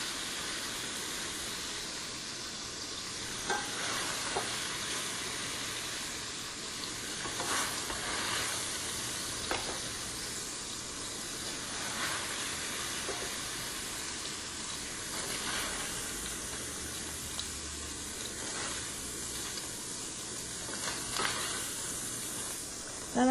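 Bata yaki food sizzling and browning in a hot pan, a steady broadband frying hiss with faint crackles and occasional soft clicks, continuous and close throughout.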